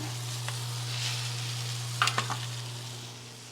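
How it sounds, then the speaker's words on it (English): An already-cooked Wagyu steak sears in a hot pan: a quiet, steady sizzle over a low hum, with a short cluster of louder crackles and pops midway, and no voices. "We're just trying to get a little burn on it."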